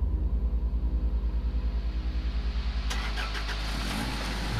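A car engine in the horror video game Cry of Fear idles with a steady pulsing rumble, then abruptly shifts into a rougher, louder revving roar midway through, close and alone with no talk.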